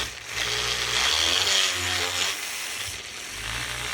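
A small power tool whirs steadily while cleaning and polishing a Suzuki GS500 motorcycle fuel tap, a close, continuous grinding buzz that swells and eases as the tool presses on the metal.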